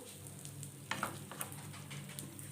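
Pointed gourd curry stirred in a pan: a faint, low sizzle with a couple of soft scraping spoon strokes, close but quiet.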